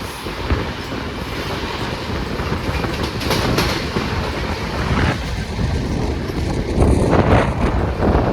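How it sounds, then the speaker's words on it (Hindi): Archana Express passenger train on its Patna to Jammu Tawi run, heard from on board as a loud, continuous rumble with rhythmic clatter of wheels over rail joints and some wind noise. "अर्चना एक्सप्रेस जो कि पटना से चलकर जम्मू तवी तक जाती है"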